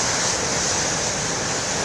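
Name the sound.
ocean waves breaking on the shore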